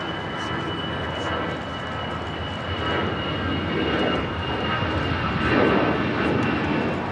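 An airplane engine roars steadily at LAX in Los Angeles, with a broad jet rumble building slightly toward the end of the stretch and no talk over it.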